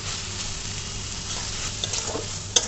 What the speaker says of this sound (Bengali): এভাবে নাড়তে নাড়তেই ভাজা ভাজা হয়ে যাবে